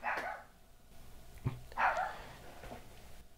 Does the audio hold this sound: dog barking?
yes